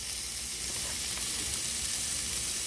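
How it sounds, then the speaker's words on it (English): Ground pork sizzles in a hot iron skillet with olive oil, giving a steady, loud hiss that holds evenly for a few seconds with no talking. "how can you tell if your skillet is ready? Simple, it'll sizzle."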